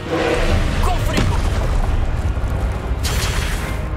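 A Confringo blasting spell in Hogwarts Legacy on PS5 bursts into a loud, rumbling explosion that booms continuously through the clip, with a second crackling flare-up near the end.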